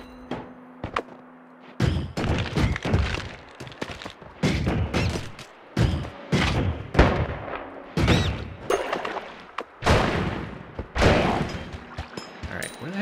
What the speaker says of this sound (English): There's the turret that I heard before.